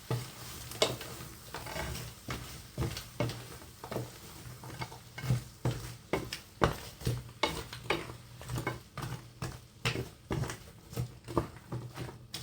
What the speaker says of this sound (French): Voilà, on mélange.